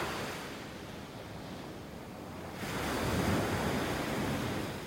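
Surf rolls onto a quiet North Naples, Florida beach with no homes along it, a steady wash of waves that swells louder partway through, with some wind noise on the microphone.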